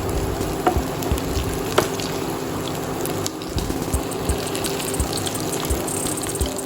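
Tikkis frying in a pan over a low flame, giving a steady soft sizzle and bubbling hiss that runs continuously, close and moderately loud, with small crackles scattered throughout.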